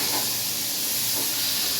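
Food frying in a pan, a steady, dense sizzling hiss that stays even throughout with no pauses.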